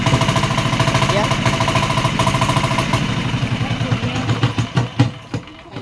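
A newly bought engine runs loudly during a test, a steady rough chugging that turns into uneven, sputtering pulses toward the end.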